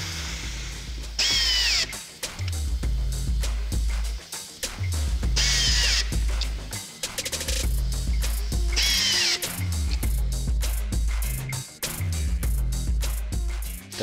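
A power drill drives fasteners into a pool table panel in a manufacturing workshop, with repeated bursts of whirring and ratcheting close by, separated by short pauses and clunks of handling.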